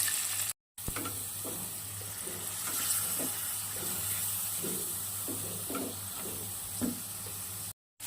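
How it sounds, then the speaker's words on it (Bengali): Eggs frying in a pan with cauliflower, a steady close sizzle broken by rhythmic scraping and stirring strokes, with a brief dropout near the start and end and no talking. "ডিমগুলো বেজে নিচ্ছি।"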